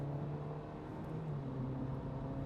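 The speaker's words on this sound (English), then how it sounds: "The regular 2-liter engine." A 2025 Kia K4 with the regular 2-liter engine accelerates, a steady droning engine hum with a low rising whir from inside the car.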